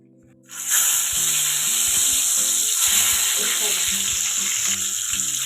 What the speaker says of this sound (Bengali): তেলের মধ্যে আমি বেগুনগুলো ভেজে নেব।